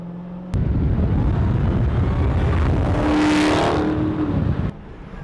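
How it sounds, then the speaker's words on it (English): A Dodge Charger Hellcat V8 engine revved at half throttle, bursting into a loud, roaring blip that swells and then drops back to a low idle rumble about four seconds later, heard up close without talk. "That was half throttle. And more than anything, what I noticed is the sound, which is amazing."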